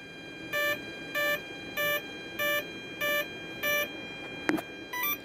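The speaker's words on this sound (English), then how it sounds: "You'll hear it beep." A smart electronic speed controller on an RC model gives a series of seven evenly spaced electronic beeps, clear and moderately loud, with a brief click between the last two.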